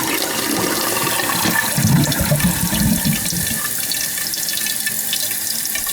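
Water steadily running and hissing inside an American Standard toilet tank, leaking past a worn fill valve that will not shut off; continuous close gushing with no talking.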